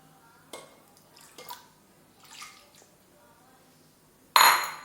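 Scattered clinks and scrapes of a utensil against a cooking vessel while arrowroot halwa ingredients are mixed at home, a few soft knocks followed by one louder scraping clatter near the end.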